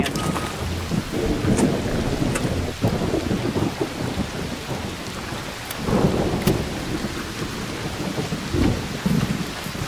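A thunderstorm with steady heavy rain, repeated thunder rumbles and sharp lightning cracks at intervals, loud and close, with no voices.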